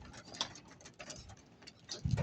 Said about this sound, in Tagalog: Yan yung ating kalapati oh.